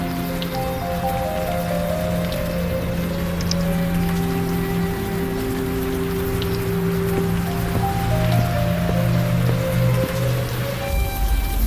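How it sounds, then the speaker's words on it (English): Steady rain falls in the video game Old Skies, a continuous even patter that stays level for the whole stretch, with game music tones sustained beneath it and no talking. "friggin' rain."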